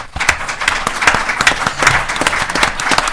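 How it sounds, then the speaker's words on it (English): Audience at a panel discussion applauds in a steady, full round of clapping that fills the room, continuous and fairly loud from start to finish. "Let's give our panel a final round of applause"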